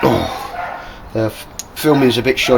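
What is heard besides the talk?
dog barking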